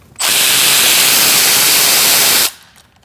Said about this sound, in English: Using an E10, we're going to remove this bolt too.